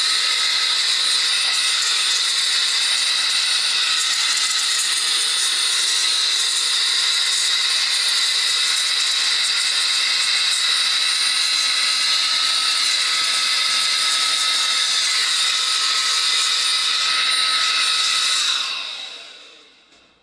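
A handheld 3-in-1 vacuum switched to blower mode runs with a loud, steady high-pitched whine and rushing air for about eighteen seconds, then winds down abruptly at the end.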